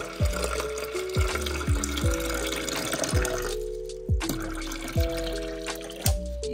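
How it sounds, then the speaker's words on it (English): Water pours and splashes into the reservoir of a Mr. Coffee 12-cup programmable coffeemaker in short bursts, with repeated clunks and knocks between pours, fairly close and moderately loud. "I'm going to just add some water in here"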